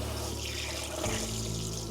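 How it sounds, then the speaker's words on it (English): Cold water poured from a kitchen tap into a mixture while making Appalachian fried green tomatoes, a steady close rush of running water with a change in tone partway through as the stream fills the container. "Let's mix this with cold water."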